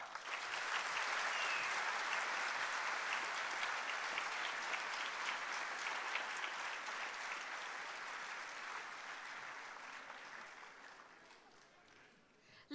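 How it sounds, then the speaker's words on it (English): A university audience gives a long round of applause for the inauguration of an IT block, steady full clapping that holds for about ten seconds and then fades out. "Dear friends, a huge round of applause because this is the inauguration of the"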